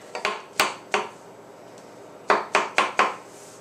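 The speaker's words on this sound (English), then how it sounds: "I'm just going to run my knife through them once" A knife slicing mushrooms on a cutting board, heard as two quick bursts of crisp taps: three cuts, a pause, then four more evenly spaced cuts, close and clear.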